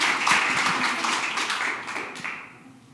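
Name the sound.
audience applause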